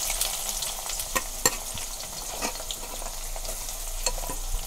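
Onion frying in cooking oil in a pan for dhaba-style egg curry, a steady close sizzle with occasional light clicks from stirring.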